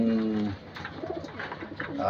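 Racing pigeons coo close by in a low, throaty run of calls, with a brief murmur of talk and a few higher chirps mixed in.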